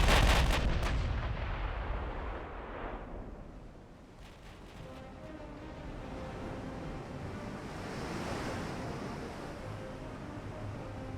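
A battleship firing armor-piercing shells in the naval game Ultimate Admiral: Dreadnoughts, a loud booming blast at the start rolling into a long fading rumble, followed by a few fainter distant reports over wind and sea noise.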